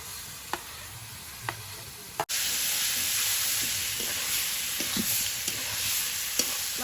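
Chicken frying in spice masala for chicken ghugni, stirred with light taps early on before a loud, sustained sizzle takes over, with scrapes of the utensil breaking through.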